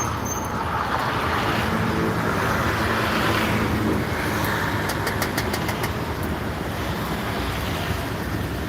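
A Rosalia Indah bus passes on Jalan Sukarno Hatta in Palembang, a steady loud rumble of engine and road noise with wind-like roar, continuous and close throughout.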